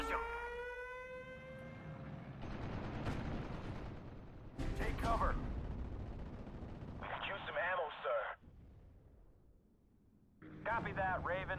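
Bombing and artillery in the World War II strategy game Steel Division: Normandy 44, with a falling whistle, rumbling blasts and a heavy explosion, plus bursts of rapid crackling fire, set among game sounds.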